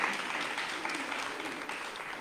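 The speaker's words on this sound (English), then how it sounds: "So again, give another round of applause for them." Steady, moderately quiet applause from a Peace Corps swearing-in audience in Samoa, even clapping that continues without a break through the moment.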